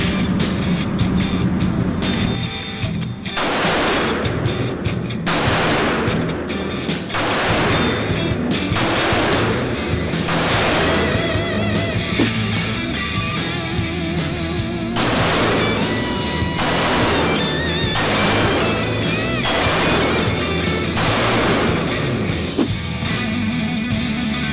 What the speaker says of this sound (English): we're gonna start off with the FNX 45 that you picked out. So let's put 5 rounds downrange,